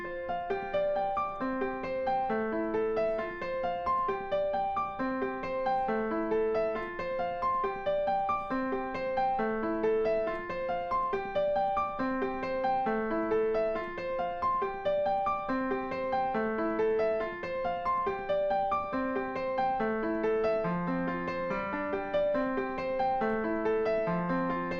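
Solo piano plays the intro riff of a song, a bright, repeating figure of rhythmic chords and syncopated notes that carries on steadily for about twenty-five seconds with no talking.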